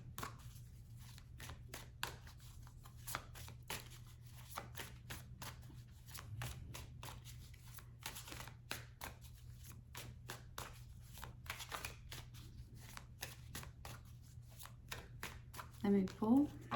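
Tarot cards being shuffled and drawn by hand, a long series of soft, rhythmic riffling and flicking bursts close by, with quiet talk over parts of it.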